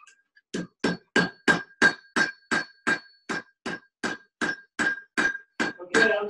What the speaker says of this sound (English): I'm done welding now. I'm just forging it now.